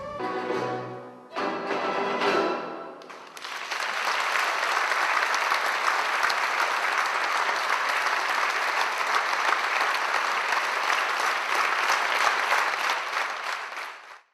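A concert audience applauds enthusiastically after a performed piece, loud sustained clapping from a large crowd that swells after a brief softer start and continues steadily throughout.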